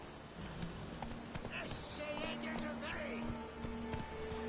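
Roach, the horse in The Witcher 3, trotting in game audio, hooves clip-clopping in a steady rhythm at moderate distance, with soft background music and a brief voice over the top.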